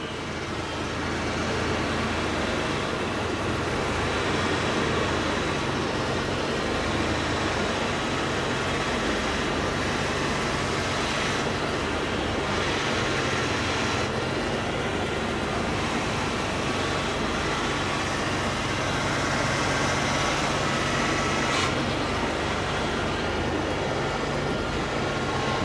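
A Ford Ranger engine runs with a newly installed power steering pump, giving a steady, loud, broadband drone that holds without a break for the whole stretch, with no voices over it.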